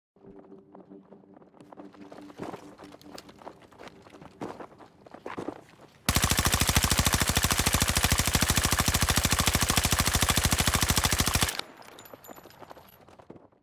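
Rapid automatic gunfire from a video game, fired in one unbroken burst of about five seconds during a no-recoil mouse macro test. Quieter clicks and shuffling sounds come before and after it.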